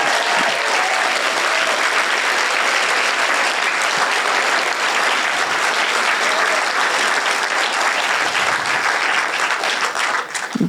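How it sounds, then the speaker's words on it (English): An audience at a PechaKucha Night presentation event in Burlington gives loud, sustained applause for the presenters, dense clapping that continues without letup and tapers slightly at the end. "can we have just a round of applause for all 10 of our presenters?"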